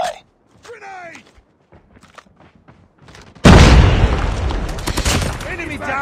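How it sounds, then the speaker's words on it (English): A grenade goes off in the Call of Duty video game: a sudden loud blast with a long rumbling tail follows a few seconds of radio-style voices, and shouting continues afterward. "Grenade!"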